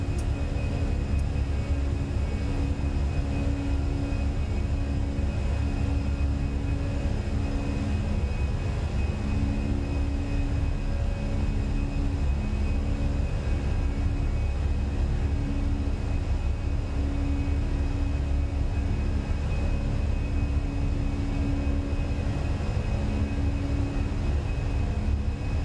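Fenix A320 airliner climbing out of Toronto in Microsoft Flight Simulator 2020, a constant droning engine roar with a low hum and faint tonal whine, steady and unbroken throughout with no talking.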